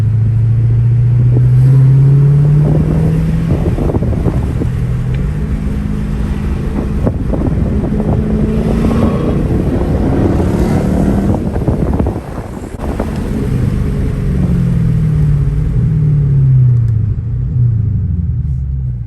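Dodge Scat Pack V8 fitted with a cold air intake, heard from inside while driving: a loud, steady low engine drone with rising and falling revs, heavy wind and road noise, and a brief dip midway.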